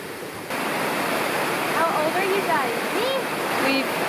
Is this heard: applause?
no